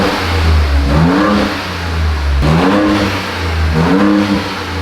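A loud, deep engine in a 2021 Ford Bronco revs repeatedly through an open exhaust with the muffler disconnected, rising and falling in three throaty surges close by.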